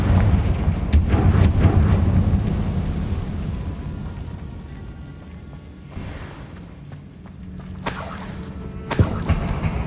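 Spell blasts from the video game Hogwarts Legacy, Confringo fire bolts and Glacius ice bursts, come as loud booming impacts over a dense rumble, with sharp crackling bursts near the end and no speech.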